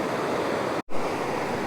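A waterfall on the Isle of Skye rushes at night in a steady, dense roar, briefly cut to silence for a split second before the torrent resumes unchanged.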